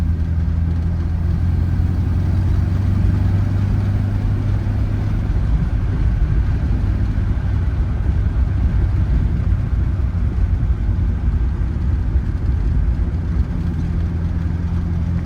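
A 1932 Chrysler CP8 rumble seat coupe engine runs steadily at operating temperature, a loud, close, continuous low drone and rumble with no talk over it.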